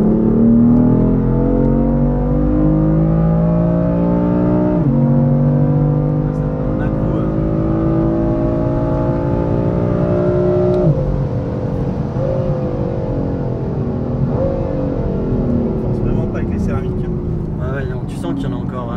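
A BMW M4 F82 engine accelerates hard and revs up through several gear changes, its loud, steady drone rising in pitch and dropping sharply at each shift, with people talking inside the car.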